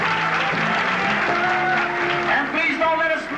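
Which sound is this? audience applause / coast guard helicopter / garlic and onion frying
audience applause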